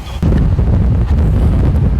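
Strong headwind on the road between Cayenne and Macouria during a cycling race stage, a loud continuous buffeting roar of wind against the microphone, steady and close with no voices.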